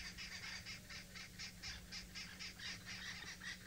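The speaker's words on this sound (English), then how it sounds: "Listen to how upset all the birds are." Upset birds giving alarm calls, a rapid series of harsh, evenly spaced honking cries repeating about every quarter second, moderately distant over a low background hum.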